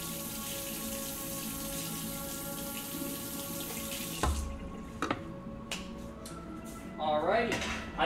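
Water runs steadily from a kitchen tap into a sink, and then a few clinks and knocks of items being set down are heard in the basin.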